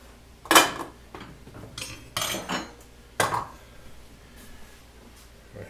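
A metal pot of melted peanut butter pie filling is moved aside on a home stove, making three or four close clanks and scrapes of metal on metal separated by quiet pauses.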